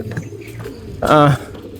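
A racing pigeon returning to the loft during training gives one short, close coo midway, with quieter voices and faint bird sounds around it.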